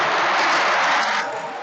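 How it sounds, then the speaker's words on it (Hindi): An audience claps loudly for a participant at a direct-selling training class, a dense, continuous wash of applause that fades slightly toward the end. "एक बार मेरे हिसाब से जोरदार ताली इनके लिए बनता है"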